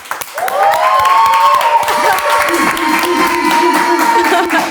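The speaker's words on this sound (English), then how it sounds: "I think that's the loudest clap we've heard so far" Studio audience applause and cheering for talk-show guest Blac Chyna, loud and dense throughout, with a sustained tonal whoop or musical sting rising over the crowd noise.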